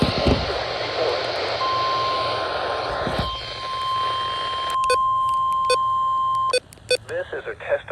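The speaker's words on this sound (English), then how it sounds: "This is a test of the NOAA Weather Radio warning alarm and EAS signal." A NOAA Weather Radio warning alarm sounds as a single loud, unbroken high beep lasting about five seconds over a rumbling background, with short buzzy EAS signal bursts chirping around it near the end.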